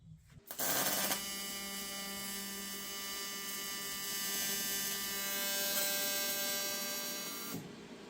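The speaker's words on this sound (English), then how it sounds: "I'm welding, I think it's 50 thousandths of an inch thick" Welding thin aluminum sheet, about 50 thousandths of an inch thick, for a jon boat floor: a steady electric buzz with a layered whine starts abruptly, holds evenly for several seconds, then cuts off near the end.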